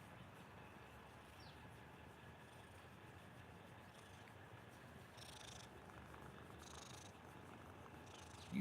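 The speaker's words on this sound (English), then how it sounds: "You purring hard as hell," A cat purrs softly and continuously, a low rumbling drone that stays steady and faint throughout.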